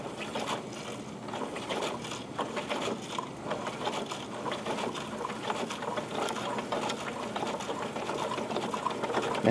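Wilesco D22 model steam engine running with a fast, steady mechanical chuffing and clatter, close and fairly quiet, continuing evenly with no talking.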